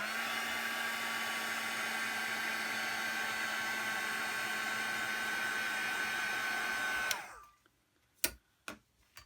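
A hair dryer or heat tool blows steadily and loud to dry ink on a handmade Valentine card, then cuts off abruptly near the end, leaving a few brief taps and knocks in the quiet.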